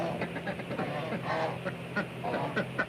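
A domestic goose gives loud, repeated honking calls in quick, uneven bursts close by, sounding harsh and nasal.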